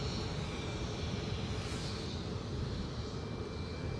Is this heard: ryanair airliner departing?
yes